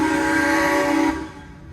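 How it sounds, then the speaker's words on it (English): A steam train at Victor Harbor, South Australia, sounds its whistle: one loud, sustained harmonic blast that holds steady for about a second, then cuts off, leaving low rumbling background. "what I'm looking forward to is the train honking."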